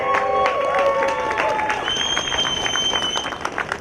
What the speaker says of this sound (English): Look around and give them a big round of applause.